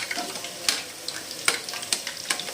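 Gulab jamun made with milk powder fry in ghee, turned gently with a spoon, giving a soft continuous sizzle broken by several sharp scraping clicks of the spoon against the pan.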